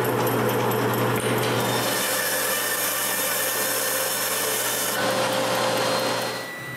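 Wooden legs and hooks of coat racks being cut with a power saw in a woodshop, one loud, steady, continuous whine that holds throughout and eases off at the end.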